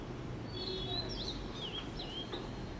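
A small bird chirps nearby with a few short, high calls over a steady low background hiss.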